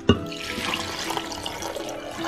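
A cup of chicken broth, the water the breast bones were cooked in, is poured into a blender over onion, tomatoes and chile, making a steady splashing stream that runs close and fairly loud for a couple of seconds.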